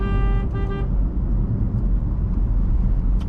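A second-generation Maruti Suzuki Swift drives along with a steady low engine and road rumble throughout, while a brief horn-like tonal note sounds near the start.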